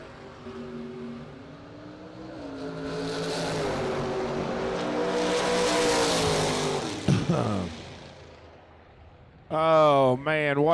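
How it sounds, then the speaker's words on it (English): Drag race cars tear down the strip in a long, loud engine roar that swells and fades over several seconds, followed by a brief burst of a sharper, higher engine note near the end. "what another great drag race"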